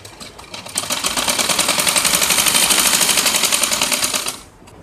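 A sewing machine stitches a border onto a salwar in one continuous fast run, its dense rapid needle clatter loud and close, slowing and stopping at the end.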